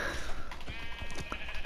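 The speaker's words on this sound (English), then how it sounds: "These sheep are literally spawning out of nowhere." Sheep bleat in the Minecraft survival game on PlayStation 4, short cries rising over a busy bed of game sounds and faint background noise.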